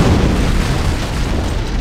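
Deep booming rumble from an antimatter charge exploding aboard a ship in Halo: Combat Evolved, very loud and sustained, a continuous low roar with no voices.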